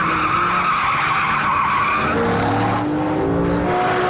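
A Lamborghini races hard around a test track, its engine roaring loudly with sustained tyre squeal and skidding as it slides through a corner, close and continuous with no talk.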